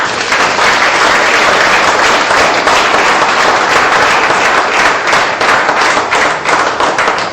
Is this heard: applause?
yes